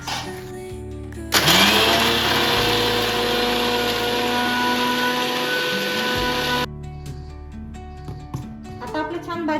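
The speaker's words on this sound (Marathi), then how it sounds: "आणि आता आपण मिक्सर भांड्यामध्ये बारीक करून घेऊया।" A kitchen mixer grinder crushes Oreo biscuits in its jar, starting abruptly with a loud, steady high-pitched whir that runs for about five seconds and then cuts off, followed by light clattering.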